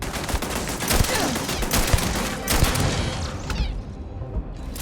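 Bursts of automatic turret gunfire fill a Starfield firefight, loud and dense with rapid overlapping shots and booms, then thin out toward the end.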